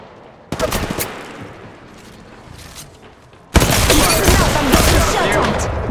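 Gunfire strikes the player in the Apex Legends Mobile battle royale game, with one loud burst followed by sustained rapid shots that are close, dense and dominant.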